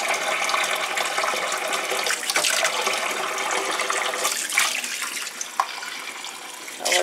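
Dried salted fish being washed in a sink or bowl, with steady running and splashing water, close and continuous, rising in a few brief sloshes.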